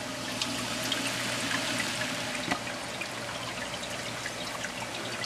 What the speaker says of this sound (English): there is a little spraying deal going on that is shooting the water up onto the roots